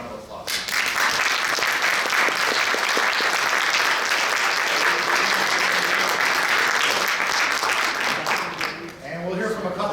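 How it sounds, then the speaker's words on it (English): A crowd breaks into loud, sustained applause that fills the room for several seconds, then fades as a voice begins speaking near the end. "Another round of applause."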